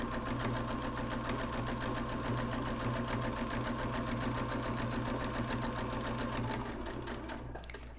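A sewing machine stitches a canvas banner in a steady, rapid mechanical chatter that runs evenly, close and fairly quiet, then tapers and stops near the end.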